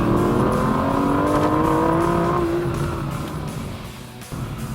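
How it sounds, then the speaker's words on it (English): A 2013 Aston Martin V12 Vantage on a twisty canyon road, its V12 rising in a loud, sustained rev as it accelerates, then easing off with a short snort near the end, heard from inside the car. "You downshift, it snorts at you, and when you lay into it, it really comes alive."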